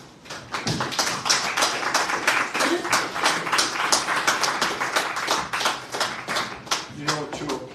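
A crowd claps steadily throughout, dense overlapping handclaps from a large group indoors, loud and sustained with no voices standing out.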